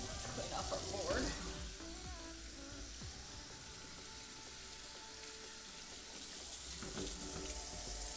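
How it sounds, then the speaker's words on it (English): Tap water runs steadily into a sink as a bench scraper is rinsed off, a continuous close splashing wash with faint clinks and murmured talk underneath. "Take our bench scraper. Rinse that off."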